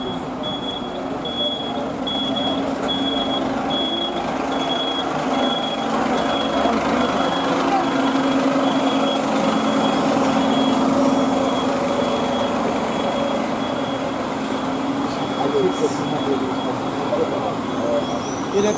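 A truck reverses at a fire station in Austria, its backup alarm beeping in a steady, evenly spaced pattern over a continuous engine rumble, with people talking quietly nearby.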